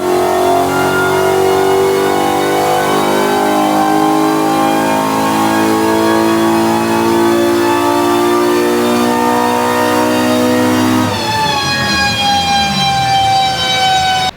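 A BMW E30 M3 track car with a swapped S65 V8 and DCT gearbox revs hard and loud on a dyno for a long sustained run, pitch climbing steadily, then drops briefly and climbs again near the end.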